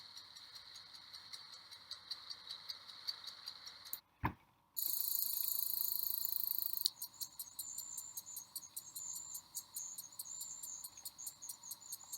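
Rapid, regular chirping of a house cricket, shrill and continuous, briefly broken by a sharp click and a short burst of steady buzzing.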